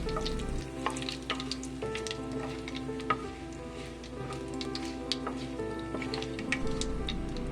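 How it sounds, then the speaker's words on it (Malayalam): Mustard seeds pop and crackle in hot oil over a low flame, the start of a Kerala-style cabbage egg thoran. A steady close sizzle runs throughout, with many sharp little pops scattered through it and no talking. "ചെറിയ ഫ്ലെയിമിൽ വെച്ച് കടുക് പൊട്ടിക്കുന്നതാണ് നല്ലത്"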